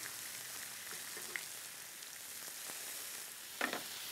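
Bacon sizzling and frying in a cast iron skillet, a steady crackling hiss with a brief louder spatter near the end and no talking.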